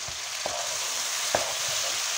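Ground garlic and parsley in olive oil fry in a pan with a steady soft sizzle, punctuated by a few faint stirring clicks and scrapes, close by with no talk.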